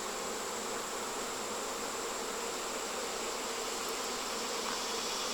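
A fall honeybee swarm caught in a swarm trap, a dense, continuous buzz of many bees droning steadily and evenly at close range without any voices.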